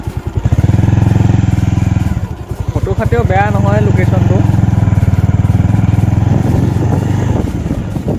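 A motorcycle climbs uphill toward a picnic spot near Jorhat, its engine droning steadily and loudly close by while a person talks over it.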